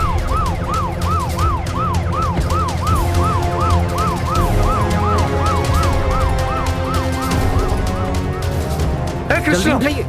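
An ambulance siren wails close by in a wavering, repeating up-and-down pattern for most of the stretch, loud over a busy low rumble of traffic, with a brief honk-like burst near the end.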